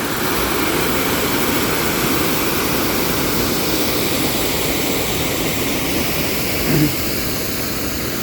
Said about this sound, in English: Above the roar of the water.